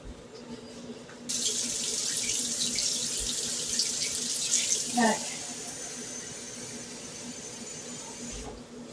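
Warm tap water runs steadily into a sink for most of the stretch, a continuous hiss after a quiet start, with a brief clatter midway.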